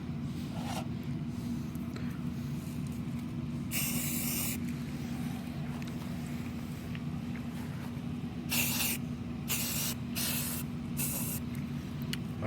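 Short bursts of spray paint hiss from an aerosol can putting a primer coat on a handmade orb build, several separate sprays of a second or so each, close and crisp over a low steady room hum.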